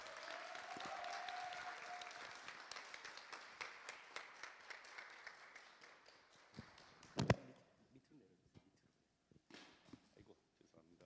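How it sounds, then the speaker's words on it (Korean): Audience applause at a pastors' children seminar as a pastor is welcomed to the stage, a dense crowd clapping for several seconds that thins into scattered claps with a sharp knock partway through. "큰 박수로 맞이하겠습니다"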